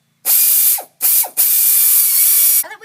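Ratchet wrench backing out brake caliper bolts during a pad and rotor change: three loud, close bursts of rapid clicking, the last one long, ending in a brief clatter.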